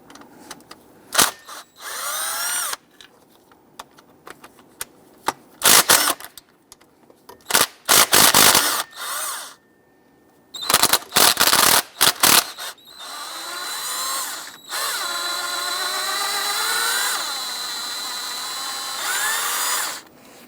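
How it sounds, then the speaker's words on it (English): A power drill or impact driver removing 10mm bolts from the coolant crossover pipe on a 2011-2021 Jeep Grand Cherokee, several sharp bursts of whirring with short pauses between them, then longer rising and falling runs, close up. "We want to remove our 10mm bolt starting from the center lower up and work our way around."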